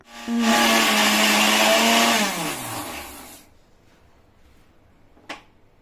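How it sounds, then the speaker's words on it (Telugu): A mixer grinder grinding ginger and garlic whirs loudly for about two seconds, then its pitch drops as it winds down to quiet, followed by a single faint click. "అందుకే ఇందాక మిక్సీ సౌండ్ అయితే వినిపించిన"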